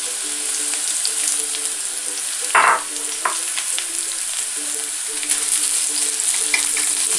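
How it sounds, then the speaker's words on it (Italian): Chopped spring onions sizzle steadily in hot extra virgin olive oil in a wok, a loud, close, continuous crackling fry with a brief stirring clatter partway through. "In questo wok ho aggiunto 2 cucchiai abbondanti di olio extravergine d'oliva. È arrivata a temperatura, andiamo ad aggiungere i cipollotti."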